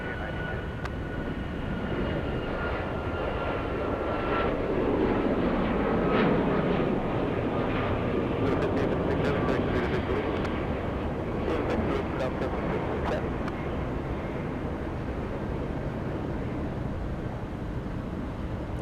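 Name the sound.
airplane landing at Atlanta Hartsfield-Jackson airport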